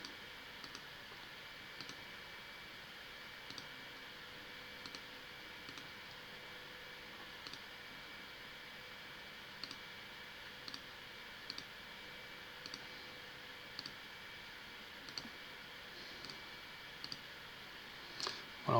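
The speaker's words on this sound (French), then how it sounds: "on clique à chaque fois hein, pour s'approcher au plus près de la bonne forme" Steady mouse clicks while tracing a polygonal lasso selection around a nebula drawing, sharp, faint single clicks spaced about a second apart over a low, constant background hiss, with no talking.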